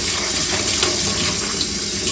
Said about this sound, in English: using lukewarm water, just kind of spray them down